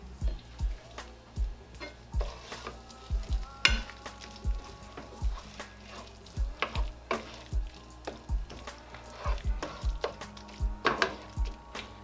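Green onions stirred into melted cream cheese in a pan on low heat, with rhythmic utensil strokes thudding and scraping about every half second over a soft sizzle, close up and without speech.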